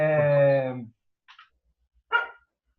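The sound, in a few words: dogs barking outside a closed door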